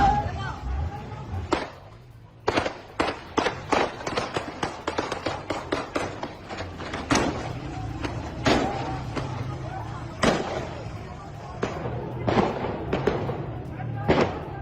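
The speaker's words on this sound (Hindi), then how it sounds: "POK में विद्रोह, गोलीबारी चल रही है" Repeated sharp cracks of gunfire ring out during unrest in Pakistan-occupied Kashmir, irregular bursts and single shots spread across the stretch over steady crowd and street noise.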